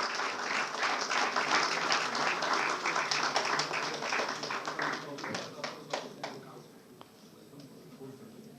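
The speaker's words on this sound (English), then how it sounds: "On behalf of all present here, with a wonderful round of applause, please welcome Ms. Punya Nanjappa." An audience at an NCC Day celebration claps to welcome a guest on stage, dense applause that thins into scattered individual claps and fades out toward the end.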